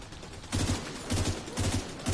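Video game gunfire from The Division 2 comes in three quick bursts of several rapid shots each, evenly spaced over constant background noise, fairly faint and with no voices.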